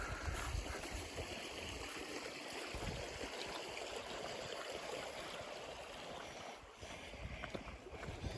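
Water rushes over rocks in a stream at a trail crossing on a hike near Zim Zim Falls, a steady broadband wash held near and continuous throughout, with no voices.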